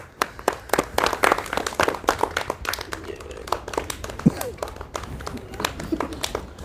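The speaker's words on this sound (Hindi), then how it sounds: "लगा ताली।" Audience clapping at a street performer's comedy act before a king, with sharp, uneven claps in a loose rhythm, fairly close and moderately loud, and a voice briefly heard between them.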